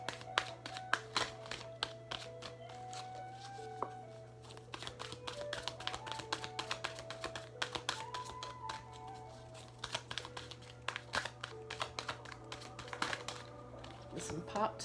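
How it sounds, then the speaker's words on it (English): Oracle cards from an Archangel deck being shuffled in hand, a steady run of soft rapid flicks and taps with brief pauses, close by, with a steady low hum underneath and speech nearby. "I don't know why I'm having a hard time shuffling."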